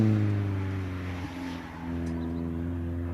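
A small hatchback race car, a Lupo 1.4 Sport, climbs a hillclimb course at Harewood with a steady engine drone that fades into the distance, heard alone without talking.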